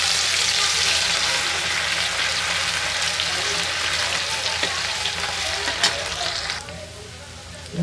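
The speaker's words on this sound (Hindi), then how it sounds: "अब इसमें हम डालेंगे लहसुन अदरक का पेस्ट।" Garlic ginger paste frying in hot fish oil, a dense, loud, continuous sizzle with occasional stirring scrapes, close up, easing off slightly near the end.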